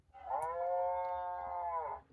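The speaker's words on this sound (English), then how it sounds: "Oh, there's a cow." A farm animal sound book plays one long, drawn-out cow moo, steady and clear for about two seconds against a quiet background.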